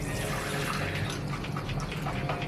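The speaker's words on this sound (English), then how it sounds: "I'm going to turn off the tap, and that is the water." Tap water runs steadily from a faucet while hair is being wetted, a continuous close splashing and hissing flow lasting the whole moment with no voices.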